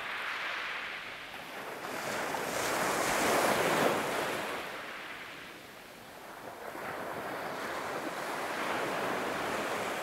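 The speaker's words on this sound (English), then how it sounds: "Notice the sounds of the waves." Ocean waves break and wash onto a beach in a continuous rolling hiss that swells and fades twice over ten seconds, with wind buffeting the microphone and no voices.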